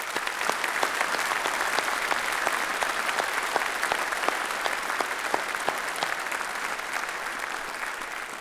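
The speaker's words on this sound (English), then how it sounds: "Please join me in a round of applause." An audience at a university graduation ceremony gives a sustained round of applause, many hands clapping steadily and evenly, filling the hall without a break or any voices.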